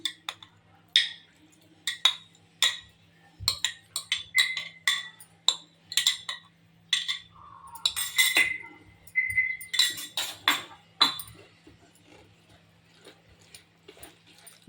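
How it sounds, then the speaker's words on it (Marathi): Plum cake batter being mixed with orange-juice-soaked dry fruits, a rhythmic series of close, bright spoon clinks and scrapes against the bowl, with a faint low hum underneath. "एकदा छान मिक्स करून घेते"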